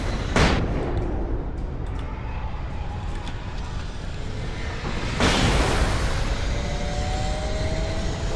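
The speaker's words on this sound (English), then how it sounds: "Flashbangs." Flashbang grenades go off in the video game Alan Wake, two sharp broadband bursts a few seconds apart over a constant low rumble of game ambience, no talking.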